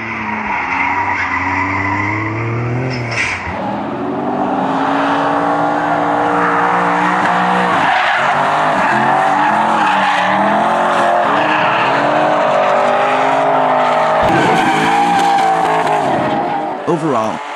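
A Nissan 300ZX Z32 drifts with long, loud, wavering tire squeals and a revving engine, and the squeal rises and falls over the whole stretch.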